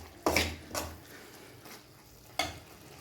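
Vegetable noodles are stirred and fried in a pan: a few scraping strokes against the pan over a low, steady sizzle, moderately close and fairly quiet.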